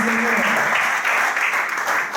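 Congregation at a youth church conference applauding together, a steady dense wash of clapping heard alone and fairly loud.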